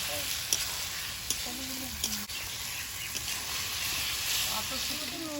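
Potatoes fry in a pan with a steady, close hiss and crackle, broken by a few brief clinks and light stirring, while faint voices sound in the background.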